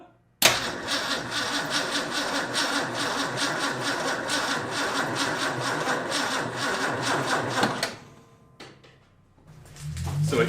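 A 1967 Ford F250 ramp truck engine catches on leftover fuel after a carburetor swap, firing into a loud, steady mechanical run for several seconds before cutting out abruptly, then a brief restart rumble.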